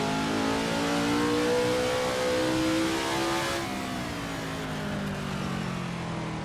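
A 1960s Grand Prix racing car in a video game set at the 1967 South African Grand Prix, held in third gear near 8,000 RPM, gives a loud, steady high-pitched engine whine that drops in pitch partway through, with no voices.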